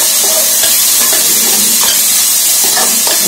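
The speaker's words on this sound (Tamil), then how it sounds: "அப்புறம் இஞ்சி பூண்டு பேஸ்ட், அது நான் ஒரு 1/2 spoon ஆட் பண்றேன். இது நல்லா ஃப்ரை பண்ணிக்கணும்." Half a spoon of ginger garlic paste fries loudly in hot oil for mutton curry, a dense, steady hiss close up, with faint stirring scrapes and no voices.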